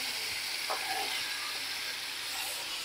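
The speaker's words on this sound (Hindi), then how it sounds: "अभी इसको सॉटे कर लेंगी बढ़िया तरीके से" Cashews, ginger, green chilli and tomato sautéing in a pan over lowered gas, giving a steady close hiss of sizzling with a few faint stirring clinks and no talking.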